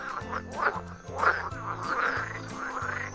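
Frogs at a pond croak in a repeated series of short, nasal, quacking calls, about six bursts in quick succession, close and clear with no talk.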